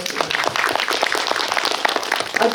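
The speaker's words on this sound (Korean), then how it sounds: "진짜 박수 한번 부탁드릴게요." Film festival audience applauds short-film directors at a screening talk, a lively burst of many hands clapping, fairly close and steady, with a voice briefly heard near the end.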